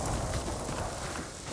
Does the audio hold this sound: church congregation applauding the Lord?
no